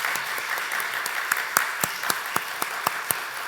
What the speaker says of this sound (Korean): 우리 축복의 박수 해드립시다.